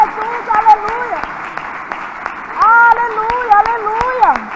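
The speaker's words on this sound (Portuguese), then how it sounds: "Pode aplaudir Jesus." A church congregation claps during a midweek worship service while a preacher's voice carries over it, the applause brief and mixed under the continuing amplified speech.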